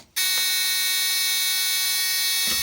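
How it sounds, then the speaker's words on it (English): An AWS sunflower unit's warning buzzer sounds in a train cab, a loud, steady, continuous drone that starts abruptly and holds unbroken, with a faint click near the end. "Goes back to black while the buzzer's sounding because the driver needs to confirm it and press the button."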